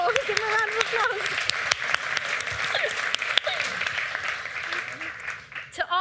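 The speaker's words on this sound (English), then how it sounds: "Give him a round of applause." A ceremony audience at a faith awards event breaks into sustained applause, a steady wash of clapping throughout, with voices and a presenter's speech audible over it.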